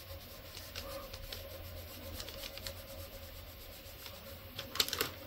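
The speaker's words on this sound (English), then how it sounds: "So if you get a thick end, you can just scrape it off a little bit." Excess polymer clay is scraped from the top of a mokume gane cane, giving faint, soft, repeated scraping strokes in a quiet room, with a couple of slightly sharper scrapes near the end and no talking.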